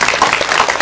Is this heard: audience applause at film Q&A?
yes